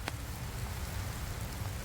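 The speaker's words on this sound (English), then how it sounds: "It's actually raining and it smells so good because we haven't had much rain." Light rain falling outdoors near a tree, a soft continuous patter with scattered drops, faint and steady, no talk.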